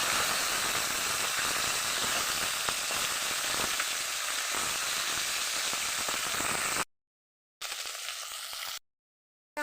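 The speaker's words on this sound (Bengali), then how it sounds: "এই মাছের এক পাশ ভাজা হয়ে গেছে, আর এক পাশ ফিরিয়ে দেয়।" Tilapia fish fries in hot oil in a pan, a loud continuous sizzle and crackle that cuts to silence, returns briefly, then stops again.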